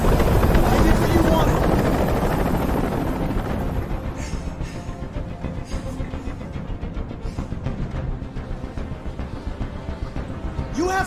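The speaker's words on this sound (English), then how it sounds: "Tell that helicopter to get out of here." A helicopter hovers in the video game Detroit: Become Human, its steady rotor drone loud at first, then easing into a continuous rumbling throb that runs throughout.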